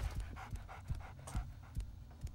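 A dog in the video game Gothic pants steadily nearby, a quick rhythmic series of breathy huffs with low thumps, alone and fairly close.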